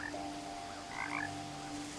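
Pond frogs in What Remains of Edith Finch croak in a dense continuous chorus, with a few louder close calls standing out over a steady humming backdrop.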